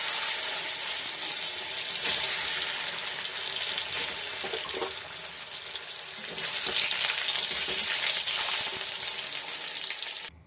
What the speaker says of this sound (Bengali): প্রথমে আমি হালকা করে পনিরটা ভেজে তুলে নেব।